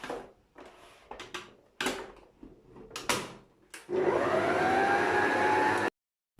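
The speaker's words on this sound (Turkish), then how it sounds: "Mikserimizi çalıştırıyoruz." Several clacks and bumps, then an electric mixer whirs into a steady high hum for about two seconds before cutting off abruptly, beating eggs and sugar for a cake.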